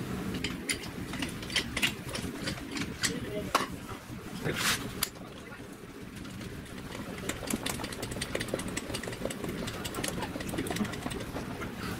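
A hydraulic jack's pump handle being worked by hand, giving repeated mechanical clacks and clicks in an uneven rhythm, close by, with a brief louder burst partway through.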